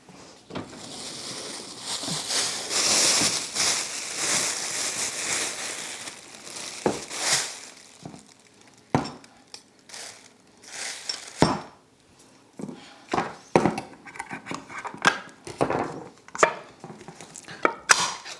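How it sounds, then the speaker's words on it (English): Cans of kidney beans and diced and crushed tomatoes opened in a home kitchen for chili, with sharp metallic clicks, scrapes and clinks coming in irregular close bursts, busy at first and then more scattered. "I'll open my cans."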